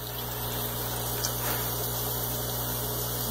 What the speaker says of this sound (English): Today's project is my Venturi aerator.